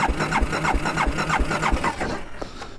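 A Can-Am DS 650 quad cranks over with a rapid rhythmic chugging of the starter, close and fairly loud, before the engine catches and settles briefly at the end.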